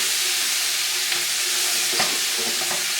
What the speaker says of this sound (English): Throw our shallots and our garlic in. And we just want to stir this up until it gets fragrant